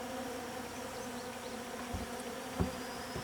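Honey bees buzzing inside a hybrid top bar beehive, a steady close hum with a few low bumps and knocks from the hive box.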